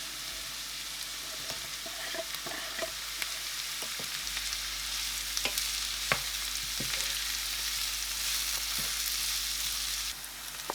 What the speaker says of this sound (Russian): Нарезаем перец мелкими кубиками и также отправляем обжариваться на сковороду к луку и чесноку